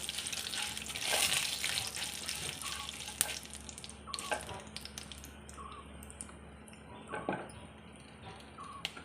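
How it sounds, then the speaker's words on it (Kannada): Urad dal frying and being stirred in a pan for pineapple gojju, giving a steady close sizzle with scraping and clinking spoon strokes throughout, louder near the start and tapering off. "ಈ ಉದ್ದಿನ ಕಾಳು ಹುರಿದ ನಂತರ ಸ್ವಲ್ಪ ಕಂದು ಕಣ್ ಬಣ್ಣಕ್ಕೆ ಬರಬೇಕು"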